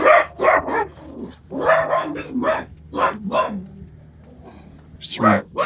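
Three dogs shut in a garage bark in repeated, uneven bursts, fairly close, with a person talking in between some of the barks.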